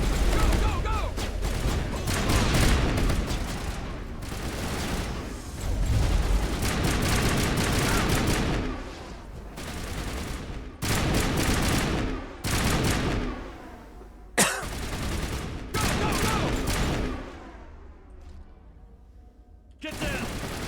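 Bursts of gunfire from a Mass Effect firefight against mercenaries, with dense rattling volleys and sharp single shots, loud and near, broken by short pauses, with shouted voices mixed in.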